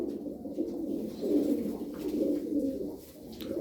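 Tumbler pigeons cooing inside a loft, a steady murmur of soft overlapping coos at moderate loudness with no talk over them.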